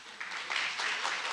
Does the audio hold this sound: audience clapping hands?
yes